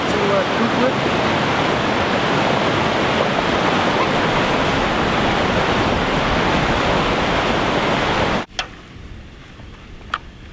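Loud, continuous rush of a river flowing near a broken-down van in a remote spot, a dense wash of water noise that cuts off abruptly, leaving near-quiet with a couple of small ticks.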